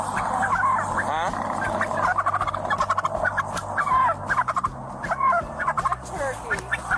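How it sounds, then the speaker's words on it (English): Turkey gobbling in rapid, loud bursts close by, several rattling calls repeating over a few seconds amid other farmyard fowl noise. "Turkey."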